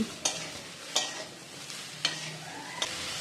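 Cauliflower frying in a pan of oil with salt and turmeric, a soft steady sizzle broken by four sharp scraping stirs spaced roughly a second apart, close and fairly quiet.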